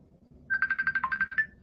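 A telephone rings with a fast warbling electronic ringtone, one burst of rapid pulsed trills, moderately loud against a quiet room.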